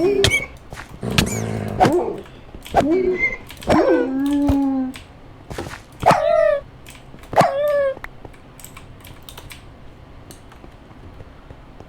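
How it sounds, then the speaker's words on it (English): A pack of summoned dogs in modded Minecraft gives a string of barks, yips and short whines, close and varied, bunched in the first half and thinning toward the end. "Summons a bunch of dogs"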